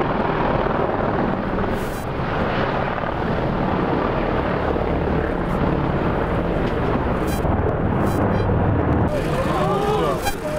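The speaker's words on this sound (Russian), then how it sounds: "Через секунды вертолет жестко приземлился на брюхо и от удара загорелся." A helicopter crash-landing hard on its belly and catching fire: dense, loud, continuous broadband roar of rotor and impact noise throughout, with muffled speech-like sounds underneath.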